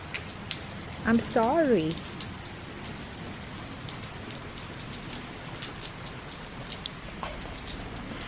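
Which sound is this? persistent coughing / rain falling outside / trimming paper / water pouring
rain falling outside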